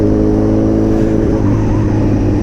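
A Honda motorbike with about 30,000 kilometres on it is ridden with its engine revving, producing a loud, steady, close motor drone that rises slightly in pitch over a couple of seconds.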